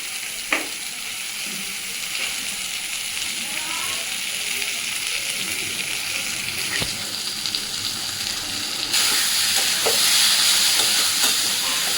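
Chicken mince fries in a pan over a gas flame, giving a steady close hiss and sizzle throughout with occasional stirring scrapes, growing slightly louder toward the end, while voices talk over it.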